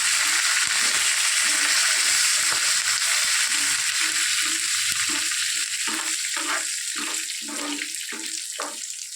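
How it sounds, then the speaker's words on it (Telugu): Dried red chillies, garlic cloves, chana dal, urad dal and curry leaves fry in hot oil for a tempering, giving a loud, constant sizzling hiss with a regular rhythm of stirring scrapes throughout. "బాగా వేయించాలండి. చూడండి ఎట్లా ఏగుతున్నాయో."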